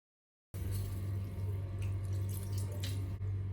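Cold tap water runs steadily into a sink, rinsing freshly boiled macaroni for a chicken macaroni dish; the close, continuous splashing flow starts abruptly after a brief silence.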